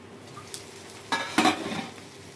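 Masala curry stirred in a pan, a few short scraping strokes with a faint sizzle underneath, close and fairly quiet over a brief clip.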